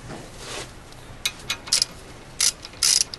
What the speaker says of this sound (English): you can undo the bolts under the disc brake